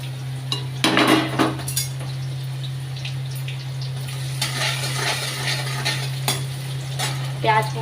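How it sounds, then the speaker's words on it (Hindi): Chopped onion frying in a pan with whole black peppercorns, bay leaf, black cardamom, stone flower and cinnamon, a steady sizzle under a low hum, with a few clinks and scrapes of a spoon stirring against the pan. "प्याज को गोल्डन ब्राउन होने तक पकाते हैं।"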